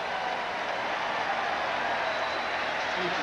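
Stadium crowd at a 1987 college football game between Miami and Arkansas, a steady, loud wash of cheering and roar that holds evenly throughout without clear breaks.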